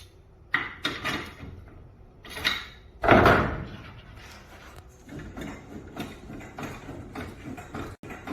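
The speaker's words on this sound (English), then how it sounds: "if you will twist the drum, you will see that the whole shaft is moving with it" A garage door spring drum and shaft twisted by hand, producing metallic clunks, ratcheting clicks and a louder grinding burst, close and uneven, with no talk.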